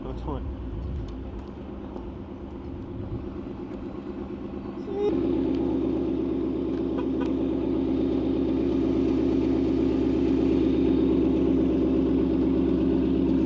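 A car engine started by key remote runs steadily, settling into a low, even idle that grows slightly louder and fuller partway through and continues to the end.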